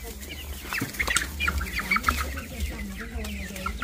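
Chickens being readied for sale for the Tet holiday cluck in a series of close, busy bursts over a low background hum, with no clear talk.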